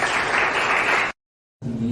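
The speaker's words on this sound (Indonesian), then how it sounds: "tepuk tangan buat kita semua dong" A classroom of students claps together, a brief, fairly loud burst of hands that cuts off abruptly, followed after a short silence by a new stretch of room sound with a low hum.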